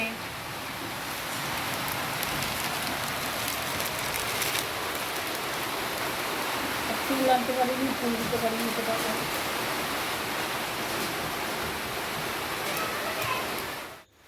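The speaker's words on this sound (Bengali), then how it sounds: "আর এদিকে দেখো আজও বৃষ্টি নেমে গেছে থেকে থেকেই একটু করে কমছে আবার থেকে থেকে এরকম বৃষ্টি করছে" Continuous heavy rain pours down in a dense, even wash of noise, with a faint voice briefly audible partway through before the sound cuts off.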